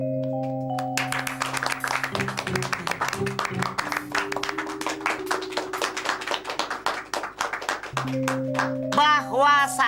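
Hand clapping in a comedic scene, a run of quick, fairly close claps over a steady musical tone, fading as a voice and other sounds come in near the end.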